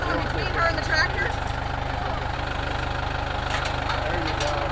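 A tractor engine idles on a ranch during the rescue of a downed cow, a steady low throbbing rumble with even pulses running throughout while people talk nearby.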